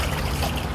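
A washing machine runs through a laundry cycle, giving a steady, loud, watery churning hum that stays even and continuous with no voices over it.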